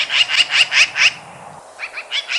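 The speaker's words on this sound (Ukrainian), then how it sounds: "Так, вірно, це стрикоча сорока." Rapid rattling magpie chatter in two bursts, a run of harsh repeated notes followed by a shorter burst after a brief gap.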